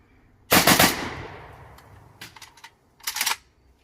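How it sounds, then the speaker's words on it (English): Rapid gunfire shot from the hip: a loud burst of several quick close shots with a ringing decay, a few faint clicks, then a second shorter burst of rapid shots. "so I'm going to do a rapid fire string. And now I'll try shooting from the hip."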